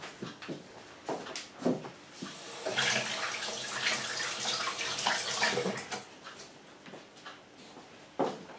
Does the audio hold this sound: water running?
yes